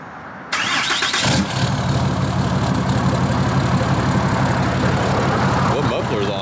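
A deleted 6.7 diesel engine in a Ford F-250 pickup that sat unused for over ten years, fitted with a 5-inch Flow Pro exhaust on stock tune, fires up loud and close, then settles into a steady, rumbling idle.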